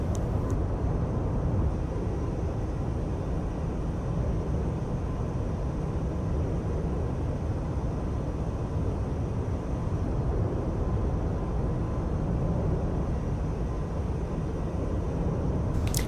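A steady, loud roar of an F-86F Sabre jet engine in the DCS flight simulator while climbing after takeoff, a continuous broadband rush with a faint high whine, heard alone throughout.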